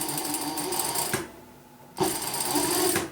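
A sewing machine stitches fabric in two loud, fast whirring bursts separated by a short quiet pause, heard close with no talking.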